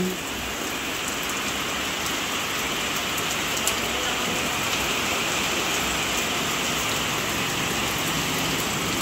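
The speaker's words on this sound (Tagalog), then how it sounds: "Grabe po ang lakas ng ulan." Heavy rain pours down steadily with a dense, constant hiss of drops striking surfaces, loud and unbroken throughout.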